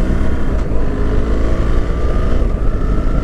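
A new BMW R1300 GS motorcycle cruises at steady speed, its engine droning low and loud against wind rush, with a brief change in tone as the quick shifter snaps through a smooth gear change.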